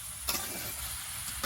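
A raw mango pickle mixture with spices and sugar being stirred in a pan, soft scraping and faint sizzle at low level, with a couple of brief utensil knocks.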